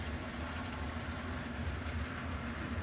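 An AHM model GG1 electric locomotive made by Rivarossi, in Spirit of '76 livery, runs steadily along model track, giving a continuous close rumble and rail clatter with no talking.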